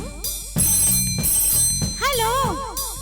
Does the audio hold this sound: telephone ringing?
yes